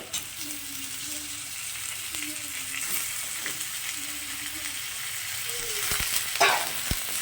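Chicken sizzles and fries in a pan with onion, garlic and chilli, a low steady crackle with occasional metallic clinks of a spatula toward the end.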